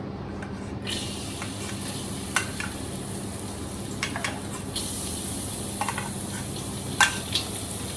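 Garlic fries in oil in a pan for Malaysian-style nasi goreng, a steady close sizzle with brief scraping stirs and small pops over it, no talking.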